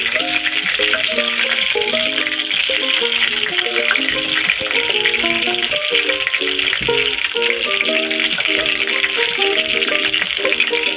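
Dynamite lumpia stuffed with ground pork and peppers fry in hot cooking oil, giving a loud, steady sizzle with bubbling crackle and faint rattling that runs unbroken throughout, with no one talking.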